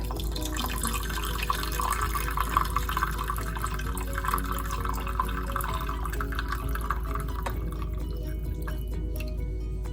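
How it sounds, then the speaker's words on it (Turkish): Hot water pours steadily into a cooking pot in a home kitchen, a continuous close splashing and trickling stream that runs for the whole stretch without speech, easing slightly near the end. "sıcak su koyuyorum"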